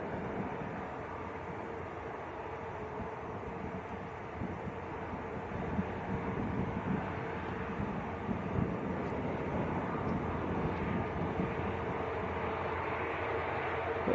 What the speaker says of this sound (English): Qatar in the sunshine, going back down to Doha